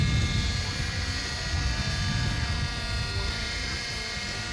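Radio-controlled model helicopter in flight, a steady high-pitched rotor and motor whine with a continuous buzzing drone, held at an even, fairly close level throughout without talking.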